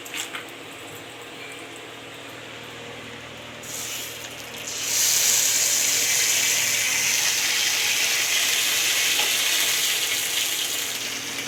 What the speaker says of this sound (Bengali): এখানে দেখো কড়াই দিয়ে দিয়েছি, জিরে ফোড়ন দিয়েছি আর শুকনো লঙ্কা